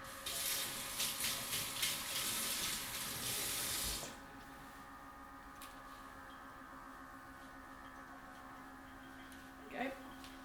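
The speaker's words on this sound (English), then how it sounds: "Just need my hands are rinsed again because they've got raw egg on them." Tap water runs loudly into a kitchen sink for about four seconds as raw-egg-covered hands are rinsed, then stops, leaving a quiet room with a faint clunk near the end.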